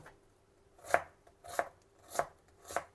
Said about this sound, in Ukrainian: Дорізаю цибульку.